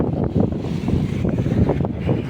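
Steady wind buffeting a microphone outdoors on Tanza Diversion Road, a continuous low rumbling roar with gusty surges throughout.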